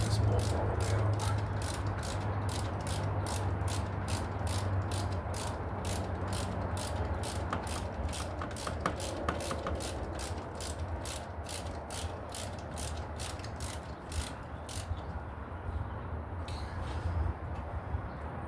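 A hand ratchet backs out the timing belt tensioner bolt on a 2006 Chrysler 300 3.5, its pawl clicking in a fast, steady rhythm up close for most of the clip.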